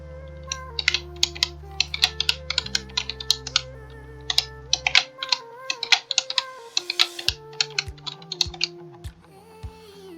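Someone types a password on a computer keyboard, producing a quick, irregular run of close, crisp key clicks over faint background music.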